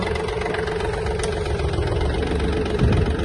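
A Yanmar F-180 mini tractor engine runs at a steady idle with the tiller lifting automatically, a continuous close low hum with a slight bump near the end.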